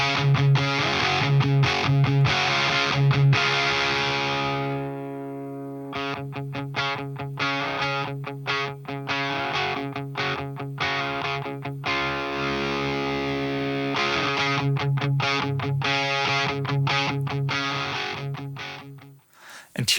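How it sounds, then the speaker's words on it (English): Electric guitar played straight into a fuzz pedal, thick saturated sustained chords and choppy riffing with a brief gap midway, loud and close throughout with no talk. "Here you can hear the original sound going guitar into fuzz."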